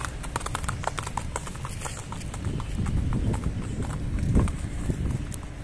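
A white horse for sale in Lahore is walked along, its hooves clip-clopping in a steady close rhythm over low background rumble.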